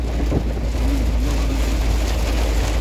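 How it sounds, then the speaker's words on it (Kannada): Steady, dense rain hiss fills the whole stretch, a constant heavy downpour with a low rumble underneath and no voices. "ಓ ಜೋರು ಮಳೆ"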